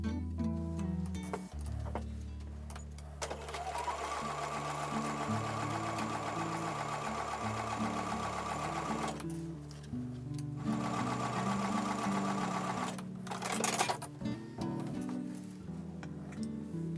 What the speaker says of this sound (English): take those back over to the sewing machine and sew with a 1/4 inch seam